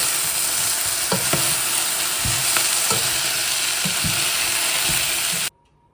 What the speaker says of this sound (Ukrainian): Я ще трішки смажу і тоді заливаю водою.